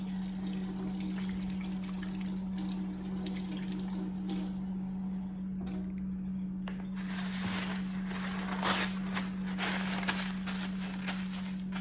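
Water running steadily from a tap while hands are washed before making lemonade, a continuous close gush with a low pump hum and splashing that grows brighter midway, no talking.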